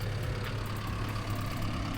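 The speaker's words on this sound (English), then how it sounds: "Customer friend wanted to use the tractor, so he's backing out now" A John Deere 5085E tractor engine runs at a steady low rumble while backing out, a continuous close diesel drone with no talk over it.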